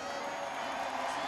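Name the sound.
crowd cheering Max Verstappen's win at the Mexico Grand Prix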